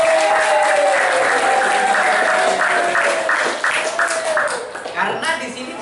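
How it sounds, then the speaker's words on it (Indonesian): Students in a classroom break into applause after a correct answer, dense clapping that holds strong and then thins into scattered claps, with voices audible over it. "Oh, tepuk tangan dulu."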